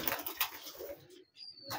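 Domestic pigeon in a Sialkot-style loft cooing in soft low murmurs, faint and close, with a thin high whistle near the end and no talk.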